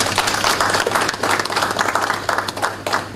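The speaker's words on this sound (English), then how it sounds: "let us give the organizers a round of applause" An audience at a school band showcase launch ceremony gives the organizers a round of applause: continuous, loud, dense clapping from a large crowd filling the whole stretch, with no voices over it.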